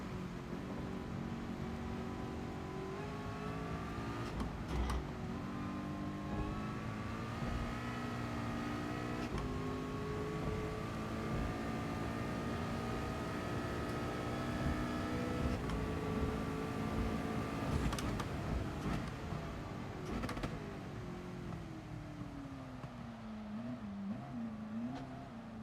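Race car engine in Gran Turismo Sport during a daily race practice, a continuous droning whine whose pitch climbs and falls with throttle and gear changes, held in fourth through corners, close and steady throughout.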